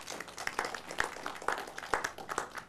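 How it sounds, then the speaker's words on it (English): A modest conference audience at a tech festival gives scattered, uneven applause, individual claps popping out irregularly at moderate distance without any talk over them. "Let's give him a round of applause."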